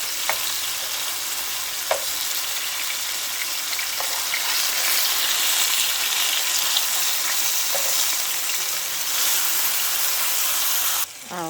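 Food searing in a hot pan on a stovetop burner, a loud, steady sizzle and hiss that holds for the whole stretch, close up, with a few faint utensil taps and no talk.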